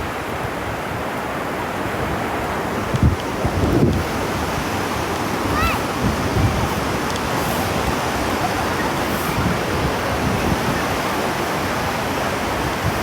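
Sea waves wash steadily onto Chao Lao beach, a continuous broadband surf roar with a few brief surges and faint voices far in the background.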